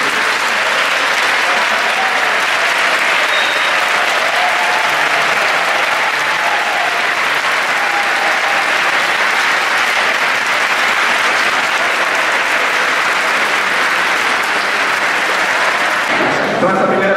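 Sustained, loud applause from an audience at a public hearing on education in a city council chamber, a dense wash of clapping that continues unbroken for the whole stretch and cuts off at the end.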